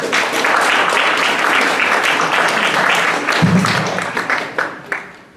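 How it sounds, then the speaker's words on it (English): An audience at an entrepreneurship panel gives a panelist a quick round of applause, close and full at first, then thinning into a few last claps before fading out. "So can we get a quick round of applause for Robert?"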